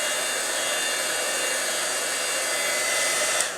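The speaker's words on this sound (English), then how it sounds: "I'm going to take my heat tool and just dry this for a minute" Heat tool blowing hot air to dry wet ink on a stamped paper card makes a steady, loud, close whooshing hum, like a hair dryer, that holds unbroken for a few seconds with no speech over it.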